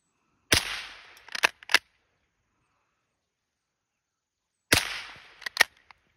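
Two sharp gunshots from a .22 pump-action rifle sound several seconds apart, each a loud crack followed by a short decaying ring and a few quick clicks of the pump action, with silence between.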